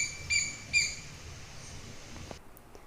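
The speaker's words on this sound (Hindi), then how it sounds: "पक्षियों की भी बहुत सारी आवाज़ आ रही है।" Birds chirp around waterlogged village fields, two short bright calls standing out early, then softer scattered chirps over a faint, even outdoor hiss with no talking.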